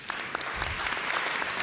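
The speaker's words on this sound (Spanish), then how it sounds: "Quiero también que aplaudamos a los traductores y a la gente que está haciendo el streaming" A conference audience applauds translators and streaming staff, steady dense clapping filling the room throughout, fairly close and loud, with no voices over it.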